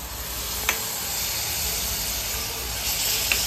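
Water poured into a sizzling pan of paneer gravy made with ginger-garlic paste gives a steady, close hiss, with a couple of faint clicks from stirring.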